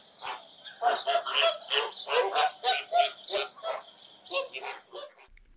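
Many migratory waterbirds at Thol Lake in Gujarat call together in a dense, overlapping chorus of honking, goose-like cries and chirps. The bursts keep coming without a break, loud and close, with no talking.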